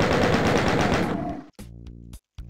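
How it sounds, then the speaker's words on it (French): A machine gun in Doom 2 rattles off rapid rhythmic shots for over a second, then stops, followed by a few short electronic game tones and clicks, with no talking. "La mitrailleuse, c'est mieux."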